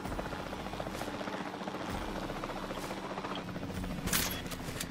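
A helicopter in the video game Jurassic World drones steadily throughout, a continuous rotor and engine rumble with bursts of game gunfire crackling over it.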